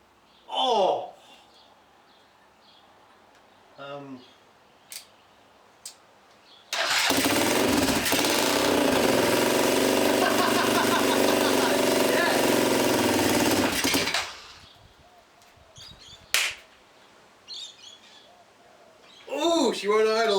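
A restored Honda farm bike engine fires up and runs loud and steady for about seven seconds before dying away, surrounded by short bursts of speech and birdsong.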